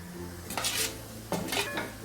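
Onion and tomato being sautéed in a pan after a ginger-garlic paste, for a dry clam (tisrya) sukka; two bursts of utensil scraping and clinking against the pan, with no talk.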